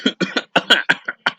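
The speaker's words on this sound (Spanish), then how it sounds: "Ay, antes tengo tos." A rapid series of about eight dry, sharp coughs in quick bursts from one person close by, with brief gaps between each, heard alone with no talking.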